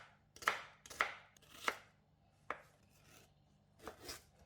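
A knife chops red onions on a cutting board in a run of crisp, close strokes, four quick ones close together and then two more after a brief pause.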